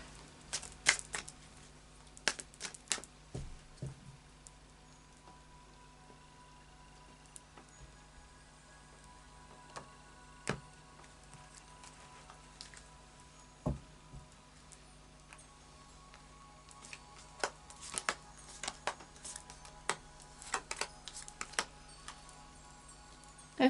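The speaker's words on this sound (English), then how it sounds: "And a final shuffle of the After Tarot deck." Soft, sparse shuffling of a tarot card deck, a few light riffles and taps scattered among quiet stretches, close by.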